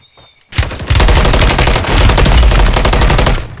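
In a Call of Duty Warzone 2.0 solo battle royale match, a pistol fires a loud, close, rapid string of shots that runs almost unbroken for about three seconds after a quiet start.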